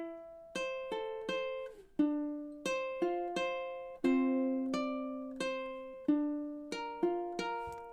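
Ukulele picked fingerstyle through the chords of a song, single plucked notes in a steady rolling pattern with each note decaying before the next, close and solo without voices.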